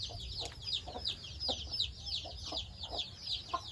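Young Burmese fighting chickens cluck and chirp close by in a steady, repeating pattern of short calls over a faint low hum.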